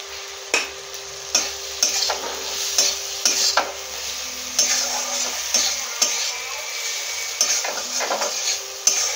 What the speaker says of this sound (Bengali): হলুদ গুঁড়ো, আদাটা ভালো করে ভেজে নেবো।